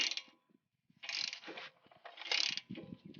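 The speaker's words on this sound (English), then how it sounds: "you just get a socket that's the same size as the lug nut. And then you just start tightening it down." Ratchet and socket tightening a lug nut onto an extended wheel stud on a Scion tC, quick bursts of clicking ratchet pawl strokes, close and faint, with brief pauses between pulls.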